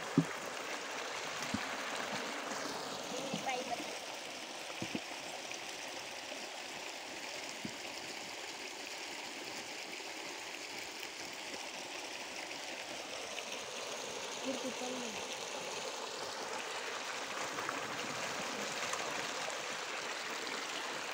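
Water flows steadily while plants are watered in a farm plot, a continuous rushing, gurgling stream that stays even and moderately quiet for the whole stretch, with no talk over it.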